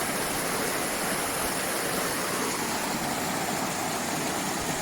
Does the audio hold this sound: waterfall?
yes